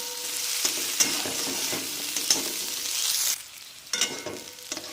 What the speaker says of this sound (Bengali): এটাকে আবারও ভালো করে নাড়ব আপনারা এইভাবে নাড়তে থাকবেন তেলের মধ্যে আলুটা ফিফটি পারসেন্ট সেদ্ধ হয়ে যাবে